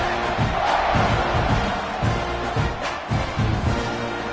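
Football stadium crowd at a BYU game roaring and cheering, a dense, steady wall of noise with periodic swells and thumping beats, heard from within the stands.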